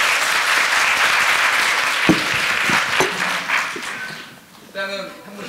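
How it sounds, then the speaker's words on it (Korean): Applause from an audience at a youth meeting with a Korean lawmaker, a crowd clapping steadily and fairly loudly before it fades out, with voices speaking over and after it. "박수 부탁드립니다."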